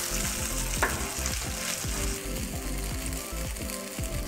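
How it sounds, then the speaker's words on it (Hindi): Coarsely ground sweet corn roasting in ghee, with a dense close sizzle and rhythmic scraping stirring strokes repeating steadily throughout. "कॉर्न को अच्छे से घी में सेक लेंगे।"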